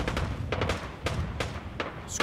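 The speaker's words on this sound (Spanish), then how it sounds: "Escucho balazos por todos lados" Gunfire in the video game Fallout 4 crackles in scattered bursts of shots and booms, some nearer and some distant, with no speech.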